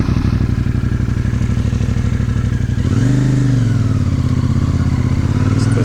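A 2024 CFMOTO 450NK motorcycle ridden at speed, its engine a loud, close, steady throbbing drone that shifts pitch partway through as the rider changes revs, with wind rush and no talking.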